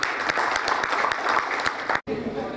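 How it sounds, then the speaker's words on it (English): A business summit audience gives a round of applause, with dense overlapping claps and some crowd murmur mixed in. The sound drops out abruptly for a split second near the end, then resumes. "We have a big round of applause."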